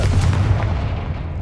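A Confringo fire spell in Hogwarts Legacy detonates as a single heavy, booming blast with a deep low-end thump that decays over about a second.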